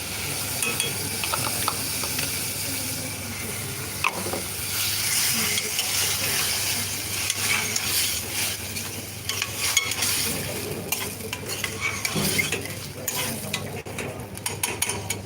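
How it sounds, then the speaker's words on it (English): Tomato puree hits a hot pan and sizzles, with a continuous frying hiss, stirring, and scattered clinks of utensils against the pan at moderate volume. "Now at this point of time, I'm going to add the entire tomato puree."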